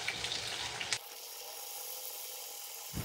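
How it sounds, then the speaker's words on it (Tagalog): Burger patties frying in a pan, a loud hiss and sizzle that abruptly thins to a quieter steady sizzle, close by with no talk. "Napakadali lang naman lutuin, ipiprito mo lang naman ito."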